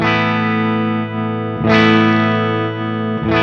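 A sustained, heavily distorted electric guitar chord rings out through a Marshall power amp, struck again partway through, thick and loud with no voices.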